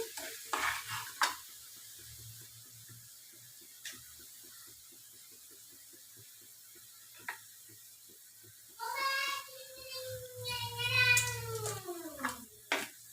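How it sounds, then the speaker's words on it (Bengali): Sugar syrup for apple chutney stirred in a pan, faint rhythmic scraping and light sizzle at first, then a cat meows loudly and repeatedly nearby, drowning out the cooking sounds. "নেড়ে নেড়ে চিনির সিরাপটা একটু ঘন করতে হবে। এই দেখুন ভালো করে নেড়ে নিচ্ছি।"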